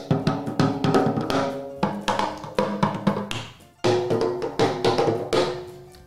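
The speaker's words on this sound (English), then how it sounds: "So, we have got all 3 of our drums. Now let's see if we can play these all together" Three homemade drums are struck together in a quick, uneven rhythm of close, sharp taps with different pitches, each hit decaying briefly before the next.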